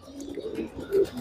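A Porosh Pathor pigeon held in hand at a home loft gives a soft, low cooing phrase that swells to one louder coo near the end, fairly close by, with no talk over it.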